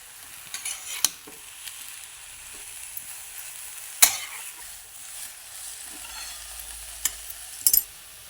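Chickpea greens fry in a pan and are stirred, giving a quiet, constant sizzle with occasional sharp clinks and scrapes of a utensil against the metal, close up with no voices.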